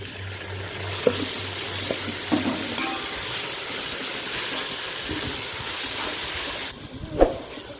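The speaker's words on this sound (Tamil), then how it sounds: "இஞ்சி பூண்டு பேஸ்ட் வந்து அடி பிடிக்காமல் கொஞ்சம் வந்து நல்லா கிளறி விட்டுக்கோங்க" Ginger garlic paste sizzles with onions in a pan for chicken biryani, a steady hiss of frying broken by occasional clinks and scrapes of a spoon stirring, with a sudden drop in sizzle near the end.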